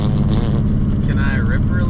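A Honda Civic EK coupe engine misfiring on a dead cylinder gives a loud, uneven, lumpy low rumble from inside the car while people talk over it.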